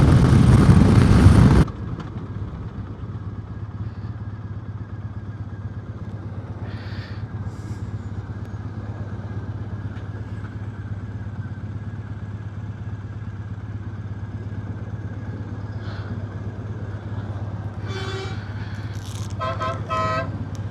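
Motorcycle cruising along a motorway, a steady low engine drone and wind rumble after a brief loud burst at the start, with faint horn-like toots near the end.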